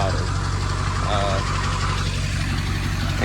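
A car engine with an aftermarket 4-inch turbo-back exhaust idles steadily with a deep, rumbling exhaust note, loud and close, holding a constant low drone throughout.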